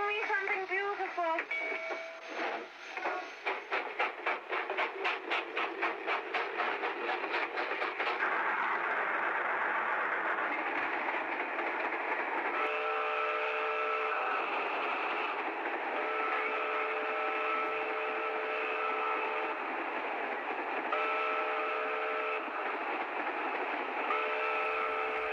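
A train travelling on rails: a rapid rhythmic clatter over the first seconds, then a steady loud rolling rumble with sustained whistle-like tones layered on top, and no clear talk.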